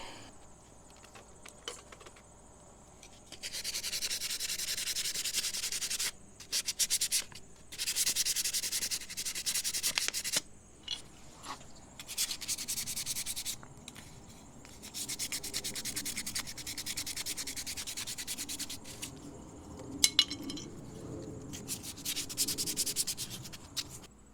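Car parts are hand-sanded with 220 grit sandpaper: repeated bursts of scratchy, rasping strokes, some long and some short, with short pauses between them and close, fairly loud friction noise.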